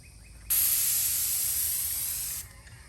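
An airless paint sprayer bursts on with a loud, steady hiss for about two seconds, then cuts off abruptly.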